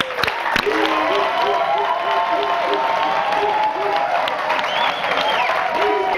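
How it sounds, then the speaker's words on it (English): A game show studio audience claps for a disqualified contestant, sustained applause mixed with some cheering while a bright musical sting plays over it. "Please give her a round of applause"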